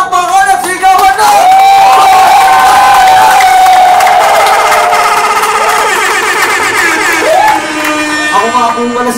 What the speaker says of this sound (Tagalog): Aking pong hiningi ang malakas na palakpakan at sigawan na!